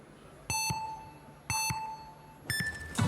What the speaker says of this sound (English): They wait for the buzzer and get off clean.